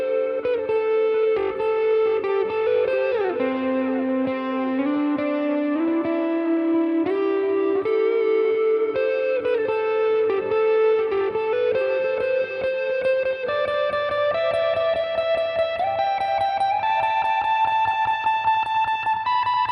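Sustained electric guitar interlude near a song's close, a continuous melodic line climbing steadily in pitch with a slight overdriven, reverberant tone, steady and prominent with no talking.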